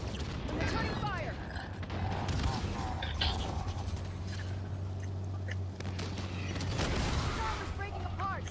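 Return fire in the Mangler mythic quest game crackles as rapid bursts of shots mixed with mechanical clanks and a low droning hum, steady and close, while voices talk over the action.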